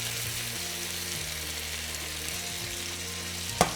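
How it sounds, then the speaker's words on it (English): Meatball sauce sizzles steadily in a hot pan, a continuous close frying hiss with a faint scrape near the end and no talking. "Oh, hear that sizzle."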